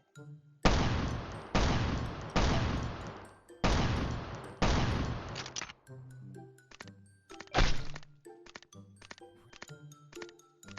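Machine gun firing in Last Island of Survival, several loud sustained bursts in quick succession followed by shorter scattered shots and clicks, close and sharp, with no talking.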